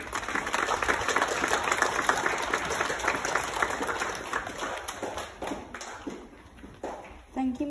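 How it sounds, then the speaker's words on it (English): A school assembly audience claps together, dense and fairly close at first, then thinning and fading out near the end, with a few voices underneath. "Please give these five a big clap."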